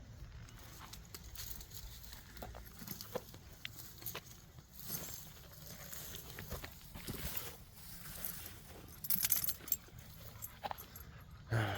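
A pet dog named Mr. Seuss shuffles around nearby and lets out soft, intermittent whimpers over a low, steady background rumble, with scattered small knocks and rustles as it moves.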